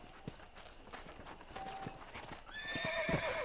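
In the video game Red Dead Redemption, a horse's hooves clip-clop at a steady walking pace, then the horse lets out a loud, wavering neigh near the end.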